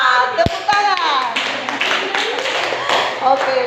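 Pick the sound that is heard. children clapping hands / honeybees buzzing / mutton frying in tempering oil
children clapping hands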